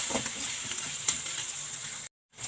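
Onion and garlic fry in a pan with a close, steady sizzle and a few crackles. The sizzle cuts off abruptly for a moment near the end.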